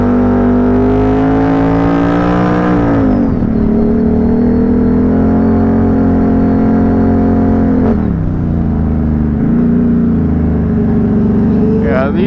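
A heavy Can-Am Renegade four-wheeler ATV revs hard on a trail, its engine loud and close with a strained rising whine, then dropping and surging again in several distinct throttle changes.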